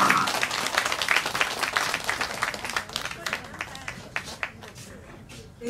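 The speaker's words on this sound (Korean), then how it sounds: "박수 주세요." Outdoor audience claps and applauds at a pumba performance during a pottery festival in Gimhae, a dense round of clapping that thins toward the end.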